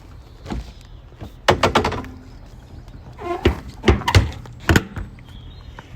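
Several solid thunks as a 2015 Land Rover Defender 130 door is shut, with a few knocks and handling sounds between the louder hits.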